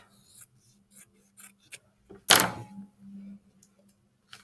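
Scissors cutting a fabric square in half, one crisp close snip rasping through the cloth amid light handling taps and rustles in a quiet room.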